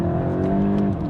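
A petrol VW Golf GTI accelerating hard, its engine roaring loud and steady at close range with a rising, sustained note and no voices over it.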